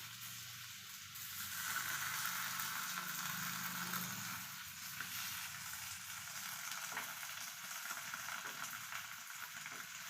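Milk poured into a very hot frying pan while making fish pollichathu sizzles steadily and close, swelling louder after the first couple of seconds and holding an even crackling hiss to the end.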